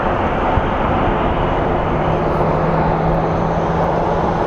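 Southwest airliner at Sky Harbor International Airport in Phoenix, a steady broadband jet roar that stays loud and constant with no break, and a faint low hum running beneath it.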